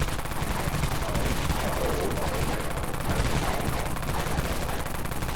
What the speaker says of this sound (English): Let's see what this Dawn Minigun can do with damage boost.